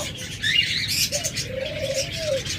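Pet lovebirds, cockatiels and budgerigars call close by, with sharp chirps early on, then a drawn-out whistle-like coo across the second half over a low, busy background.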